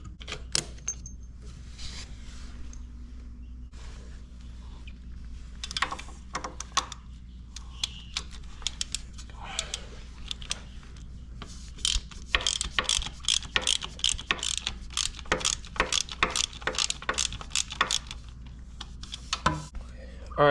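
Ratchet wrench loosening a motor mount bolt on a 2009 Harley Dyna, with clicking runs of ratcheting that grow denser and busier in the second half, over a steady low hum in a workshop.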